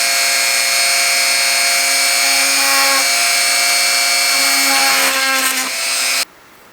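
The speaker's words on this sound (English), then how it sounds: "I gotta drill a hole so I could pass these little balls in there." A small power drill whines steadily and loudly while boring a hole into a diorama piece, its pitch wavering slightly under load before cutting off abruptly.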